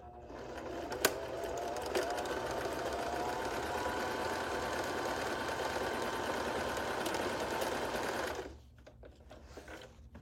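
A sewing machine stitches cloth in a steady, even whir for several seconds, close and moderately loud, then stops abruptly.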